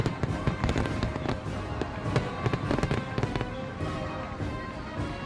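Fourth of July fireworks burst in a dense, continuous barrage of loud cracks and booms for over five seconds, with no talking.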